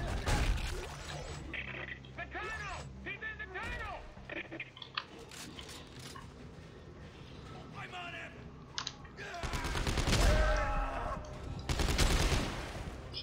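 Shotgun blasts in Dead Space 3 co-op, heavy booming shots standing out at intervals amid dense game effects and noise, with the loudest bursts near the end.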